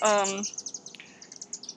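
Birds chirp and tweet outdoors in quick, scattered calls, a brief burst of voice at the start before the chirps carry on alone at moderate loudness.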